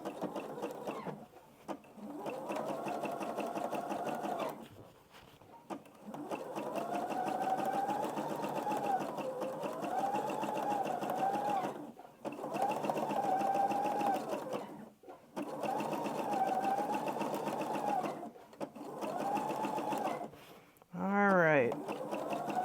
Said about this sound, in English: just start zigzagging again around the egg